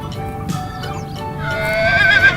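A horse whinnies loudly and clearly as a natural animal sound effect, a single long neigh that rises and trembles, with faint hoof clip-clop underneath.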